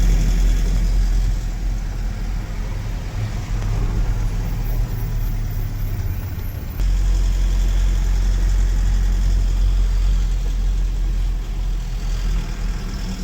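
A truck's engine idles with a loud, steady low rumble as it pulls over to the roadside, the drone holding constant throughout with a slight shift midway.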